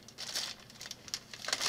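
Plastic bag already opened on a Playmobil Pink XXL magazine pack, crinkling in a quick run of soft, close rustles that swell toward the end, with no talk.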